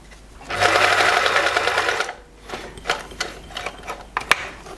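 Privileg 865 manual sewing machine running a straight stitch, a loud, fast mechanical whirring burst of about a second and a half, then scattered clicks and knocks from handling the machine.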